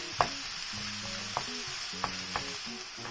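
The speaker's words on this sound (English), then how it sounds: "now break with a spatula so there are no big lumps in the sauce." A spatula breaks up meat sauce for lasagna in a pan, producing a soft, quiet simmering sizzle punctuated by a handful of distinct scrapes and taps against the pan, with faint tonal hum beneath.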